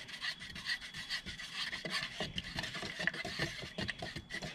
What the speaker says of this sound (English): Okay, so we're gonna stir up our black.